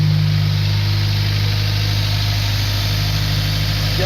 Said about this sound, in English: We should rev it a little bit. Let it cold start a little.